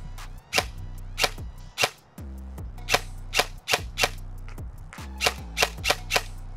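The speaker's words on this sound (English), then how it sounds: "So let's just give it a couple shots." A Specna Arms Bronze Edge 2.0 M4 airsoft rifle firing about a dozen sharp single shots, some in quick pairs, each a crisp snap over a low mechanical hum, close and loud.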